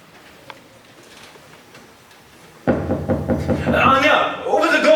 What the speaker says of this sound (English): Anya, open the door, please, Anya.